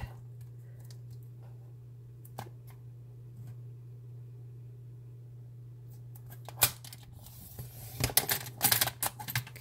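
Scissors cut paper page markers, a few faint isolated snips over a low steady hum, then a quicker cluster of crisp cuts near the end.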